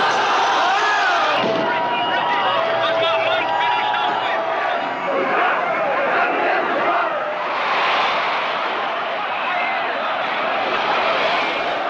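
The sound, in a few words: outraged crowd rioting in a played film scene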